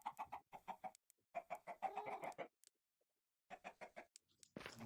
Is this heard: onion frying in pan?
no